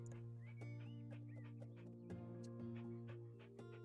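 Clucking chicken chew toy for a puppy in the home-renovation game House Flipper, giving several short squawky clucks over a steady background music bed.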